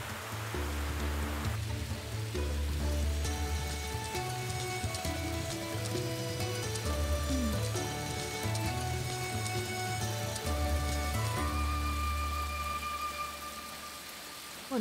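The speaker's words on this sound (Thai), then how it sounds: "ฝนตกหนักจัง" Heavy rain pours steadily onto surfaces, a continuous dense hiss with a low rumble beneath, alone throughout with a faint tonal hum running under it.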